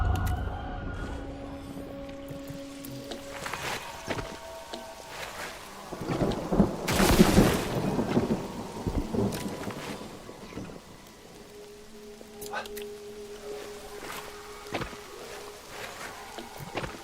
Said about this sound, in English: Oh, and it stopped raining now.